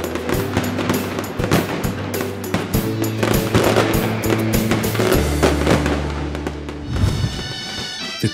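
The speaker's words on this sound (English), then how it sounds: "Pyrotechnic professionals blend colour and sound perfectly, making hearts thump and covering the Valencian festivals in a cloud of gunpowder" Dense, loud volleys of firecrackers at the Fallas festival in Valencia, rapid overlapping bangs and crackles with a few lingering tones near the end, sustained for the whole stretch.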